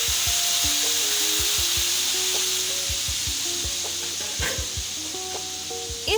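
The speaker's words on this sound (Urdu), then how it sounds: "تڑکا لگانے کی آواز مجھے ذاتی طور پر بہت پسند ہے، آپ بھی سنیے۔" Tadka sizzles loudly as onions fry in hot oil for kadhi pakora, a dense steady crackle close up with repeated soft scraping and tapping of a utensil in the pan throughout.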